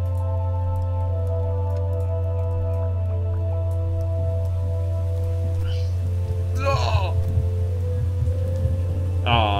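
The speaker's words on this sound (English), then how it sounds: "Oh, it's raining." Rain patters continuously in the Starbound game world over a constant low electronic hum, and a brief voice-like sound cuts in near the end.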